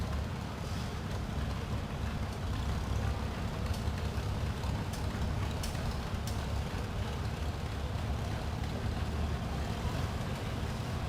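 A 1942 Farmall H tractor rolls past in a Kansas threshing bee parade, a steady low engine rumble with constant broadband noise throughout, no breaks or talk.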